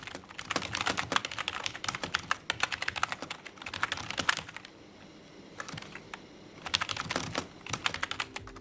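Typing on a Logitech G213 Prodigy keyboard with tactile 4mm-travel, 50-gram switches: close, steady bursts of crisp key clicks, pausing briefly midway before another quick run of keystrokes.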